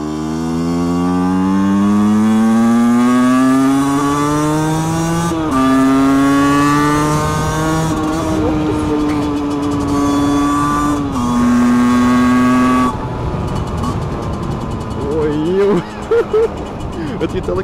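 Honda CRM125 two-stroke motorcycle engine on a ride, loud and close, revving up through the gears with rising and falling pitch, brief drops between shifts, easing off near the end.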